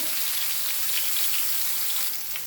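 Eggplant pieces fry in hot oil in a non-stick pan, giving a continuous bright crackling sizzle at close range, steady and fairly loud throughout with no speech.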